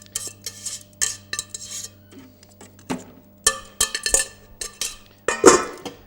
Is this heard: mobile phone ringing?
no